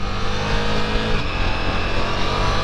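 Engine of a Ducati Multistrada V4 Rally motorcycle while riding on a road in sport mode, a loud continuous roar with rising and falling revs heard up close along with strong wind noise.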